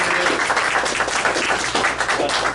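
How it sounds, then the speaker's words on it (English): Steady applause from an audience at a Pennsylvania political activist gathering, dense continuous clapping filling the whole stretch at an even level with no voices standing out. "I want you to give Bill a big applause"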